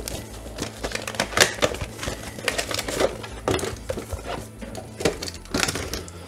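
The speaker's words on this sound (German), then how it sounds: "Also Lüfter auspacken." A new cooling fan unpacked from its packaging, close crinkling, rustling and small clicks and knocks of plastic and cardboard in an irregular stream.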